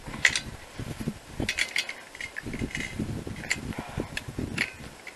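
Parts of a fire extinguisher being screwed together by hand, heard as small metallic ratcheting clicks and scrapes at close range, irregular and repeated over low handling noise.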